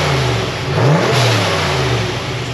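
A turbocharged 363 cubic inch small-block Ford V8 in a Notchback, revved once with a rising then falling engine note, loud and close over a rough idle.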